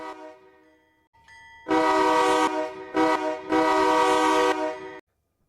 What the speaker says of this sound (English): Of course, we also have the horn right here.